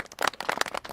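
A small group at a Pennsylvania government press announcement gives a quick, faint round of scattered clapping lasting about a second.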